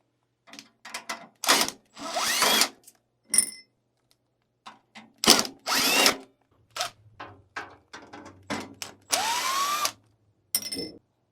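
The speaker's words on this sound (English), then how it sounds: "I'm just going to use my power drill here." Cordless power drill backing out ten screws from a Lelit Bianca espresso machine, heard as a series of loud, close whirring bursts separated by short pauses and small clicks.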